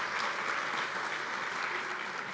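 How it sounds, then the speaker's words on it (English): A conference audience applauds the FIU team during the CAE designation ceremony and closing remarks at the NICE Conference and Expo 2023, a dense, steady wash of clapping lasting the whole moment without any voice over it. "A round of applause for them."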